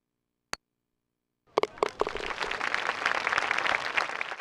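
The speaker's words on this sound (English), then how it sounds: "features sparse broadcast commentary as well as applause from the gallery" A single sharp tick, a brief pause, then a crowd's applause swells and holds, a dense patter of clapping from a golf gallery in a PGA Tour PlayStation video game.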